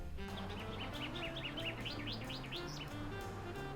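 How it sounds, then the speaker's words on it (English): Common chaffinch song from the video game Super Mario Odyssey: a run of bright, quick descending chirps repeated in phrases over a steady bed of game music, clear and moderately near. "and this is apparently a common chaffinch."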